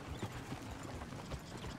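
Horse hooves clip-clop in Red Dead Redemption 2, a steady rhythmic series of soft thuds at walking pace, fairly close and quiet, with no voices over them.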